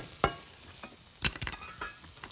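Duck and lychees being stir-fried in a pan: a soft sizzle runs underneath, while a few sharp scraping knocks of the utensil stand out, close and moderately quiet.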